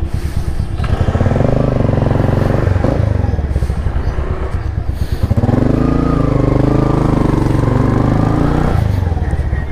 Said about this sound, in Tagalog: Ito, pinapainit ko na yung motor natin.